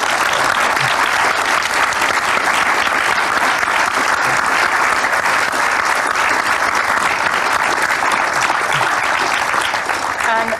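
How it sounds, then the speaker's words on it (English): Sustained audience applause at a BAFTA creative-industries talk on the game Life is Strange, a dense, steady wall of clapping that fills the room at full volume throughout with no pauses. "Let's give them a large round of applause, please."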